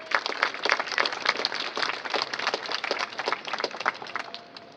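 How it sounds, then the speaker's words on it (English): Applause from a crowd at a grand opening ceremony, with dense steady clapping that tapers off toward the end. "Give them a big round of applause."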